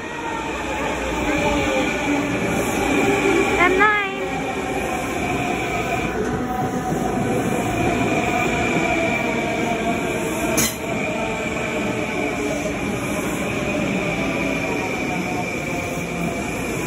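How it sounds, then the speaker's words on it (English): A Long Island Rail Road M9 commuter train running at speed between Syosset and Hicksville, a steady rumble with whining tones, squealing wheels and brief clanks, heard from inside a car. "Today I'm riding the new Lirr M9."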